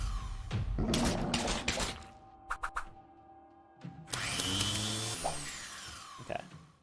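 A meat grinder weapon attacking in the video game Fear and Hunger Termina, a harsh, grinding, drill-like mechanical whir in loud surges with sharp clanks and pauses between them.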